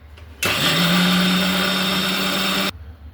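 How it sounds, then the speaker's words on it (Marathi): A mixer grinder grinding soaked mung lentils with a little water whirs loudly for about two seconds, a steady high-pitched motor drone starting and stopping abruptly. "आपण हे मिक्सरला वाटून घेऊत आता"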